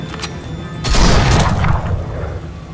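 A booming shot with a rumbling low tail in The Walking Dead video game, preceded by short sharp cracks, dense and close in a single burst of gunfire, with no speech.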